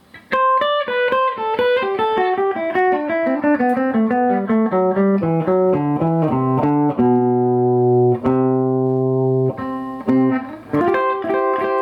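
Guitar lick with a Lydian flavour over C, quick single notes cascading downward before settling on sustained tones and a short closing phrase, clean and close with no voices.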